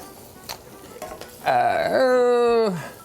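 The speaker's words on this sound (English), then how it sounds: "we're just going to cook these until they're, the onions are semi-translucent" Onions frying in a pan on an electric stove, a loud sizzle that swells suddenly after a quiet start and holds steady, with tonal scraping or stirring sounds mixed in.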